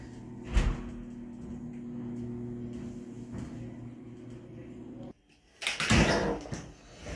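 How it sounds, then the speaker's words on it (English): A door on the fourth floor of a residential building opens and closes: a thump early on, then steady room hum, then a louder clunk and rattle near the end, with no talking. "Door opens perfectly."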